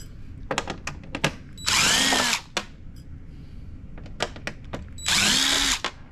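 A power drill backs out the mounting screws of the LCD monitor in a Ms. Pacman arcade machine. Two separate whirring bursts, close and loud, are separated by clicks and handling sounds.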